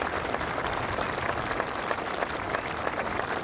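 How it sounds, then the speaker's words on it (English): Generous applause from a golf gallery at the 2012 Scottish Open greets Phil Mickelson, a dense, even clapping from a large crowd, steady throughout with no voices over it. "Generous applause"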